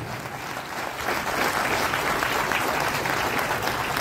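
Applause from an audience at a Youth Hostels of India event in Rourkela marking Swami Vivekananda's 162nd birth anniversary: steady, dense clapping that swells after the first second and carries on evenly.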